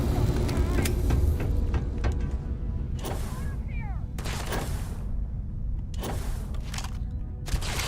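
Gunfire in the sci-fi video game Starfield: a string of sharp broadband shots at irregular intervals over a dense, loud game soundscape, while a player jumps and fires.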